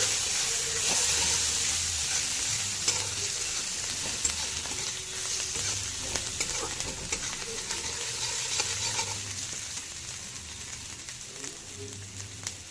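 Green chillies and grated ginger fry in hot oil with cumin, asafoetida and dried chillies for a chana dal dish, giving a steady close sizzle throughout with occasional stirring scrapes.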